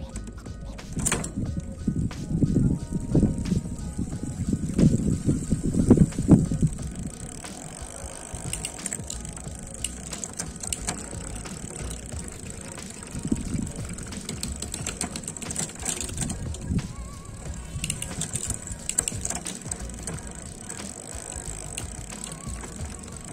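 A fat bike shifted into fifth gear is pedaled on a stand, giving a steady whirring and light ticking of the drivetrain with faint clicks from the gear mechanism, moderately quiet and without talk.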